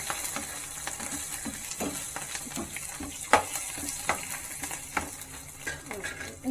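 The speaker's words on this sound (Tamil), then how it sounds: "லைட்டாக ஆயிலே ஃப்ரை ஆகட்டும்." Green chillies frying lightly in oil, with a steady soft sizzle and repeated clinks and scrapes of a spoon stirring against the pot.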